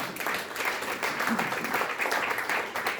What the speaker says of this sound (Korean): 다시 한번 큰 용기와 격려의 박수 부탁드리겠습니다.